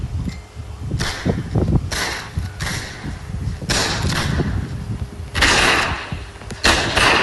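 Video game gunfire cracks out in repeated bursts of sharp shots and thuds, loud and close with short gaps between volleys.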